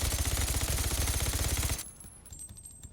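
Rapid-fire bursts from the Wicked Rifle MB150 in the video game Days Gone Remastered, a dense fast stream of loud shots for under two seconds, then fading into quieter game ambience.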